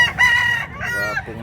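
A rooster offered for sale at a poultry market crows loudly and close by, one long harmonic call with a short second phrase, mostly alone.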